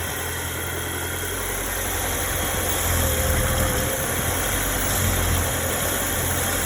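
An Audi A4 engine idling with a PCV valve vacuum leak, a steady close-up hum with a faint high whine running throughout, no talk.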